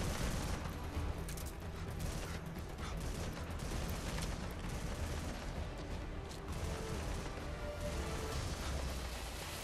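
Gunfire in the video game Metal Gear Survive: a dense, continuous clatter of rapid shots and bursts, loud and unbroken throughout, with heavy booming underneath.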